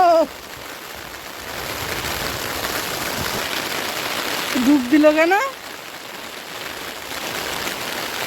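Heavy rain pouring onto a pond in the Sundarbans, a steady loud hiss throughout, with a voice speaking briefly over it midway.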